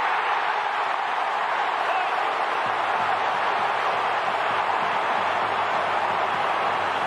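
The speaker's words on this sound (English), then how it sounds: "Crowd says it all." Stadium crowd at an AFL match cheering and applauding in a sustained loud roar, broad and unbroken, with a commentator's voice faintly over the top.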